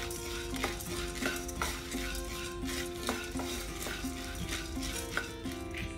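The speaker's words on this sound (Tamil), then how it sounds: "நான் ஃப்ளேம் வந்து சிம்மில் வச்சு தான் வறுத்துட்ருக்கேன்." Urad dal and roasted gram being dry-roasted in a pan over a low flame, with steady stirring and regular scraping clicks of a spoon against the pan, close and moderately loud.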